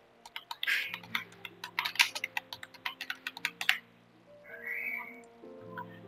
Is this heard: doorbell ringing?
no